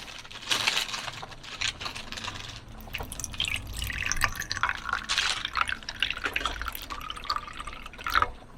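Calpis water drink pours into a cup at an Okinawa family campsite, a steady trickling fill with drips and splashes lasting several seconds.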